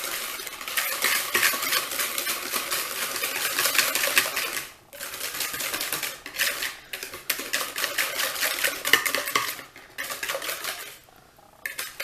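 Butter being mixed into vanilla cake batter, a busy stream of clattering, scraping whisk or mixer sounds against a bowl with brief pauses along the way.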